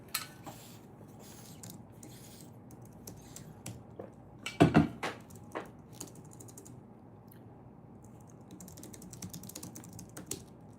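Typing on a computer keyboard to log in, a run of soft, scattered clicks with a brief louder cluster of keystrokes near the middle over a low room hum, no talking.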